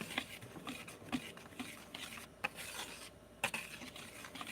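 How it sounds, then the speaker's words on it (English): A whisk scrapes and rasps through vanilla cupcake batter ingredients in a bowl, a faint, irregular rubbing with a few sharper clicks, heard close up with no talk. "just whisking these ingredients together"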